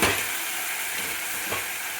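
Ridge gourd tipped into a hot pan of cooking milk gravy, a steady frying sizzle and hiss running throughout with a brief stirring clatter near the end, close and moderately loud.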